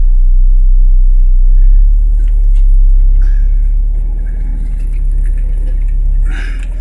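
Engine of a transmission-donor car straining slowly at low speed while towing two Saab 9000s in a yard, a steady deep rumble with gentle swells in revving, loud and close with no talk.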